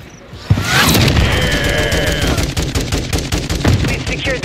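Shotgun and rapid gunfire in Call of Duty MW3, a sharp blast followed by a dense, loud run of repeated shots and impacts, close and continuous.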